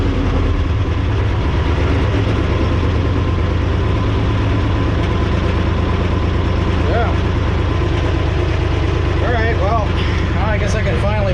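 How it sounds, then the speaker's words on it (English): A Belarus 250AS tractor engine, recently given a fuel system cleaning, idles steadily with a continuous low rumble throughout, with faint background voices and some higher squeaky sounds near the end. "Let's see if it'll hold an idle."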